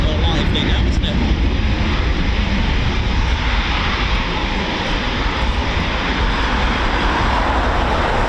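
Eurofighter Typhoon FGR4 jets at RAF Coningsby produce a loud, steady, broadband engine roar that fills the whole stretch without a break, with a voice faintly present beneath.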